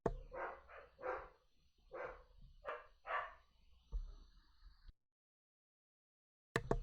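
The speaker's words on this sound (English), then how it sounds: "you hear my dogs barking in the background" Dogs bark at a home during a livestreamed esports match commentary, several sharp barks in uneven bursts, some doubled, fairly distant and faint, before the sound cuts to silence.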